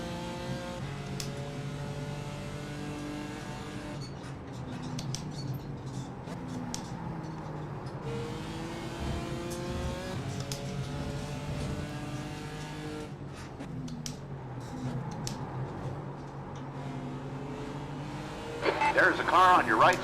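GT4 race car engines at Brands Hatch in iRacing, a continuous revving drone rising and falling through gear changes, with a voice talking over it and a louder burst near the end.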